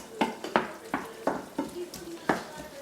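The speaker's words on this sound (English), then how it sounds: "And then mix that in with everything else." A lobster mixture with Valentina hot sauce is stirred in a pan, a rhythmic series of about eight scraping strokes over a soft sizzle, fairly close.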